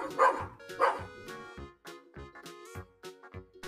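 A dog barks repeatedly at close range, opening with two louder woofs and followed by a run of shorter, choppy barks and yips, loud and alone with no talking.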